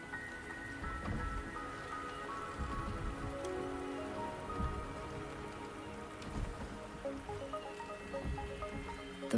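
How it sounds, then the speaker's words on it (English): Steady rain pattering on surfaces in the video game Wuthering Waves, a soft continuous hiss of drops with faint distant rumbles, heard alone without voices. "The rain is subsiding, and the sky will soon clear."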